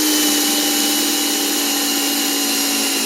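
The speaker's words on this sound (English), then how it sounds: "Drill a hole." A power drill bores a hole in the bottom of a bucket with a steady, loud, high whining drone that holds throughout without pause, close up and with no talking.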